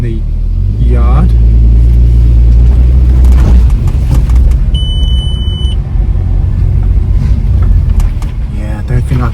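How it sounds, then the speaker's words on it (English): Volkswagen Golf MK4 R32 with a DSG conversion starting and pulling away for a short drive around a yard: a loud, deep engine rumble swells after the start, a brief beep sounds midway, and the idle drones on steadily. "I'll turn the car off, start it again. Let's go for another little round in the yard."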